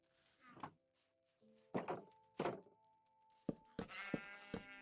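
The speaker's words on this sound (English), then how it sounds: "you're not supposed to be in there, Mr. Sheep" Sheep in the Minecraft video game bleat several times in short, soft bursts, mixed with a few dull thunks from the game.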